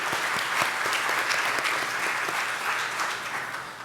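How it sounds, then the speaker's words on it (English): A conference audience gives a round of applause after lunch, dense, steady clapping from a large crowd filling the room throughout. "Please give them a round of applause, please"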